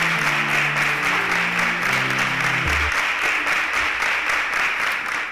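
A studio audience applauds steadily as contestants leave the stage at a televised competition show, the clapping dense and sustained throughout while low music tones play underneath in the first half.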